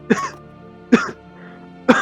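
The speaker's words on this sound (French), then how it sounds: "je sors des flammes et je tousse un peu dessus" Three sharp coughs, evenly spaced about a second apart, close and loud, with quiet between them.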